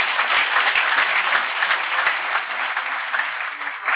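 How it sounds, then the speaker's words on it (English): A crowd applauds steadily, a dense wash of many hands clapping at once, holding even for the whole stretch. "Let's give a round of good applause to Yuvraj."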